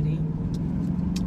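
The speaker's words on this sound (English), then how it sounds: "So I am driving again full force" A car being driven at steady speed, its engine and road noise forming a constant low hum inside the cabin, with a couple of faint, brief higher rustles over it.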